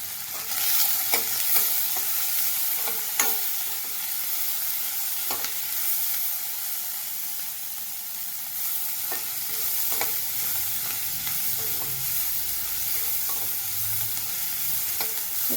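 Onion, green chili and garlic sautéing in a pan with a pinch of salt, a steady soft sizzle under intermittent spatula scrapes and taps, close and unbroken by talk.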